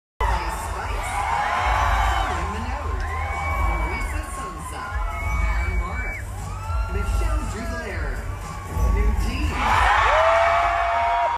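A large audience at the 2024 Billboard Women in Music awards cheers: loud, sustained screaming and shrieking from many voices, with high-pitched squeals rising and swelling again near the end.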